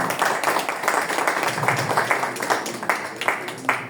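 Applause breaks out at a book day panel in Cajamarca for a doctor invited to the head table, a steady crowd of hands clapping at moderate volume with uneven, sharp individual claps.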